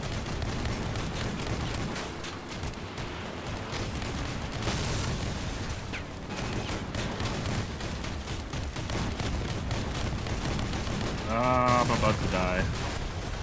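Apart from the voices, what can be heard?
kaiju and missile hits on vehicle in Crossout video game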